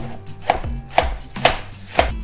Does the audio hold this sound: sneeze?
no